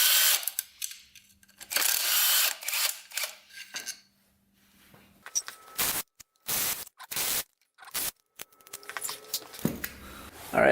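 A power tool spins bolts out of a special-edition quad in repeated bursts, loud whirring runs broken by short pauses, ratcheting clicks and clanks of handling, with no talking.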